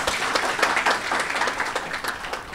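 An audience at a keynote speech at an academic conference applauds in a short burst of dense, overlapping clapping that stays at a steady moderate level.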